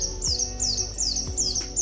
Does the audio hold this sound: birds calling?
yes